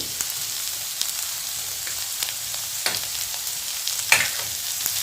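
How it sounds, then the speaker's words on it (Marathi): Onion fries in a pan over very low heat for vermicelli upma, a soft, steady sizzle close by with a few brief scrapes of stirring. No one speaks. "कांदा छान भाजून घेऊया"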